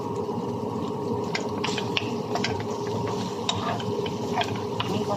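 Garlic frying in a pan while chicken is being cooked, a steady close sizzle with occasional scrapes and clicks of stirring and no talking.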